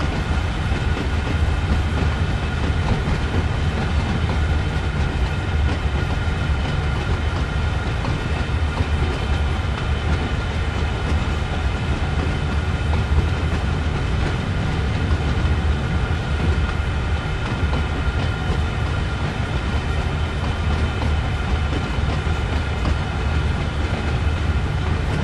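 A train in the Train Sim World 2 video game rolls steadily along the rails, a loud, continuous rumble with faint clickety-clack from the wheels and no talking throughout.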